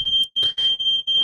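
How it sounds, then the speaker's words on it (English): A smoke alarm going off gives a loud, piercing electronic tone that sounds in short repeated bursts with brief gaps, near and clear, alone without talk. "I think there was a smoke alarm going off here."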